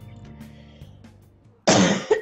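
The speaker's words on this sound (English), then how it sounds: "Oh, sorry for constantly coughing." A person gives a loud, close cough burst with a smaller second catch right after it, following a quiet stretch of low room sound during a recorded Persona 5 game playthrough.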